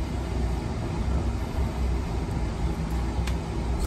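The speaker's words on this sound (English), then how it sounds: "sorry for the furnace noise," A furnace runs with a steady low mechanical roar throughout, continuous and unchanging, with a couple of faint clicks near the end.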